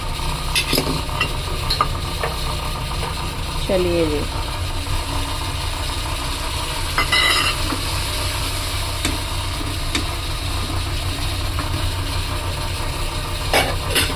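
Steady frying sizzle with clinks of a spoon stirring in a pan while dal is tempered, a brief spoken phrase near the start.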